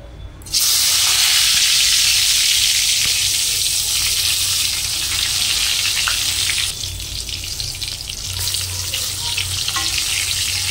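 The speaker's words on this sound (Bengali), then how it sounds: "তেলটা হলে বেগুন ভাজা করব।" Eggplant slices coated in salt, turmeric and sugar fry in hot oil, a loud, close, continuous sizzle that starts abruptly and hisses on for several seconds with slight shifts in intensity.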